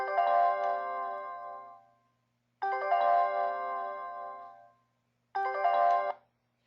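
A computer chime played by a SmallBasic program each time the mouse is clicked sounds three times as a bright, harmonic electronic ding, each tone ringing for about two seconds before a short silence, clear and alone.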